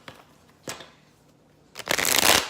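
Close tarot card shuffling: two quick flicks, then a sustained, loud riffling burst at the end, with no one talking.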